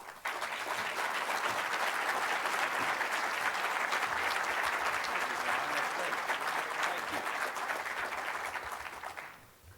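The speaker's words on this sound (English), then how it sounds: "why don't we just give him a nice warm round of applause" A large conference audience gives a warm round of applause, a dense, steady clapping that carries evenly for nearly ten seconds before tapering off at the end.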